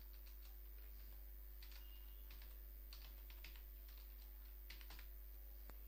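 Java code typed on a computer keyboard, faint scattered key clicks in short irregular bursts over a constant low electrical hum, with no voices.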